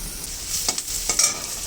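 Chopped onion sizzles in a hot pan with a continuous crackle, and a few quick stirring scrapes rise over it. No voices are heard.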